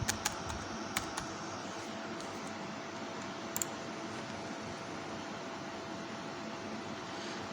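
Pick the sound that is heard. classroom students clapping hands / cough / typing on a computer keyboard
typing on a computer keyboard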